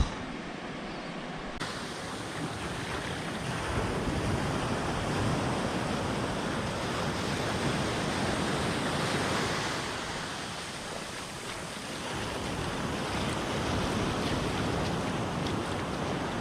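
Ocean waves wash steadily onto a beach in Western Australia on a calm, windless morning, a continuous broadband roar of surf swelling and easing, close and loud with no voices.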